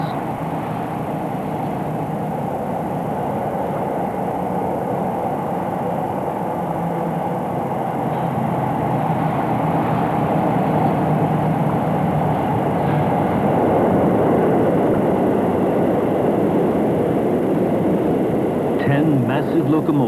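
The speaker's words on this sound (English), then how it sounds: "Massive locomotives in a 13-car formation make a test run from the Honshu side to Shikoku." A heavy 13-car locomotive train weighing 1,027 tons crosses the Akashi Kaikyo suspension bridge from Honshu to Shikoku on a test run, with a continuous loud rumble and rattle that grows slightly stronger as it passes.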